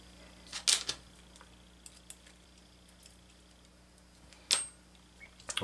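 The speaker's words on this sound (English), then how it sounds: "So now I can start dropping in some screws here." Small screws dropping into a Saito odd fire twin model engine, giving two sharp metallic clicks several seconds apart over a quiet background, with a few faint ticks between them.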